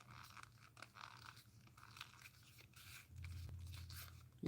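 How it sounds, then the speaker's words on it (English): A knife shifting inside a leather slip, producing quiet, close crunching, creaking and popping sounds in irregular bursts, with a low steady hum beneath. "Y'all hear that knife just crunching and popping in there?"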